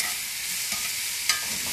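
Vegetables and onions softening in a hot pan give off a steady, close hiss of frying, with a couple of faint clicks of a utensil stirring through them.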